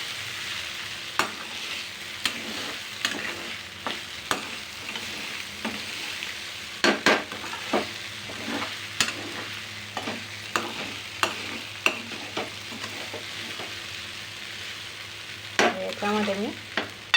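Sabudana khichdi stirred in a pan over low heat, a steady gentle sizzle under repeated scraping and clacking strokes of a spoon against the pan, close and fairly quiet, with no talking.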